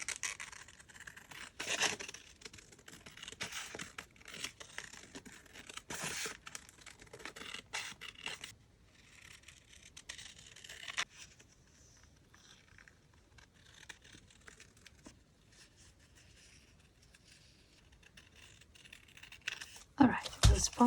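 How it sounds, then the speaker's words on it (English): Napkin paper is cut up for a tote bag folio. Faint, irregular snipping and scratching runs through the clip, with a brief louder rustle at the end and a soft voice at times. "Now let's cut these up."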